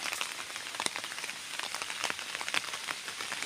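Rain falling steadily near a cave at Ban Na Ang, a dense hiss of drops striking surfaces with scattered louder splats, close and continuous with no voices.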